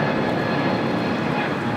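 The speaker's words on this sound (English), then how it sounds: "This is JetBlue 1524 taking off to JFK on the A321neo" A JetBlue Airbus A321neo takes off at LAX, its engine roar a steady, dense broadband rumble that holds loud and even throughout the short stretch with no breaks.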